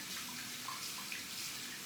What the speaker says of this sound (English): you wouldn't have had to hear that running water